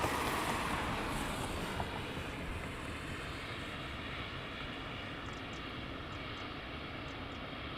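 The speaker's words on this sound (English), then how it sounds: "And then we have the Texans taxiing back in." Texan T1 training aircraft taxi at RAF Valley, their engines a steady, fairly distant broadband drone with no voices over it.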